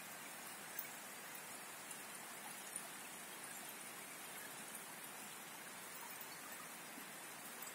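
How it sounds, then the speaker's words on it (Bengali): Rain falls outside a house as a faint, even hiss of steady downpour with a few tiny drips, distant and unbroken. "আপনারা দেখেন বৃষ্টি হইতেছে।"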